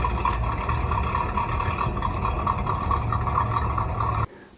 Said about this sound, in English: and an idling V8 engine.